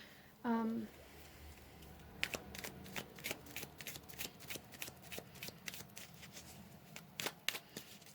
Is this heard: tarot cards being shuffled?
yes